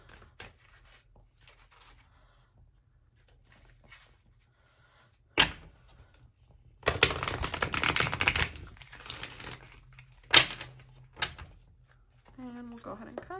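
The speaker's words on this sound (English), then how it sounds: "I'm gonna do one more shuffle." A burst of riffling shuffle of a deck of tarot-style cards lasting a couple of seconds, close by, set among quiet handling clicks and taps, with a voice briefly at the end.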